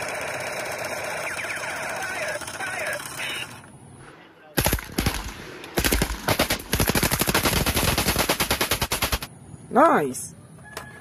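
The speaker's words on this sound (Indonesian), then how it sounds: "Wow, senapan serbu." Rapid bursts of video game assault rifle fire, loud and close, coming in several clipped strings with short pauses between, preceded by electronic game sounds.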